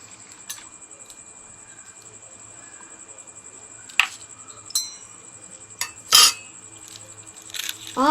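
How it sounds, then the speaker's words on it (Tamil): A knife taps and scrapes while cutting a suspected plastic egg, a few sharp clicks and one scraping burst spread over several seconds, with a steady insect-like chirping hum running underneath throughout. "செகண்ட் முட்டை கட் பண்ணி பார்க்குறேன்"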